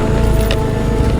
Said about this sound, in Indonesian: suara motor saya gembrosaknya itu teman-teman